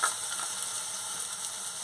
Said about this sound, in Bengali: এই মশলাটা মেখে তেলে ভালো করে ভেজে নেব।